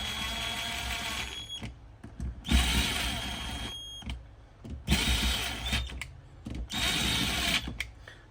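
An impact driver seats screws on a timing sprocket of a 4.2-liter 40-valve chain-driven B6/B7 Audi S4 engine, firing in four loud, close hammering bursts of about a second each with brief pauses between.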